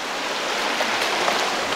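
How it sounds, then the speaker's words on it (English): Steady broadband rushing of river water close by as someone wades through a shallow stream on a forest trail, loud and continuous with no talk. "I'm gonna go through the water."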